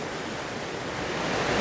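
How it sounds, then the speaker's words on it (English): A rushing mountain creek in the Great Smoky Mountains makes a dense, steady broadband roar of flowing water, close and continuous, swelling slightly toward the end. "Nothing like that rushing water, that Smoky Mountain rushing water"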